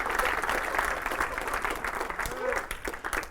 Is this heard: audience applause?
yes